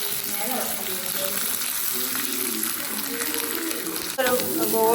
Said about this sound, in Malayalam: കടുക് പൊട്ടുന്നത് കടകത്തിൽ വേണം.